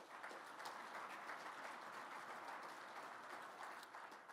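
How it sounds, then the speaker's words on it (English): Luncheon audience in a banquet hall applauding event sponsors, a faint, steady wash of many hands clapping, heard from a distance and continuing evenly throughout. "Please give them a round of applause."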